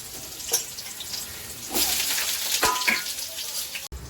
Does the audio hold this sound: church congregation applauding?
no